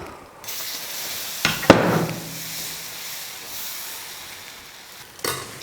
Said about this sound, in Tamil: இப்போ தோசைக்கல் காஞ்சிருச்சு. இப்போ தோசை ஊற்றிக்கலாம்.